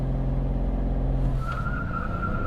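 A BMW 540i engine roars under heavy load in a launch-control start and begins to pull away, a steady low drone rising in pitch.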